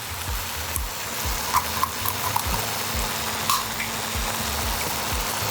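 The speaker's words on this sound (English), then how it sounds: "I'm just going to let that simmer for another 2 or 3 minutes." Food simmers in a pan with a constant dense sizzling hiss, low bubbling pops and a few faint clicks, loud and steady with no voices.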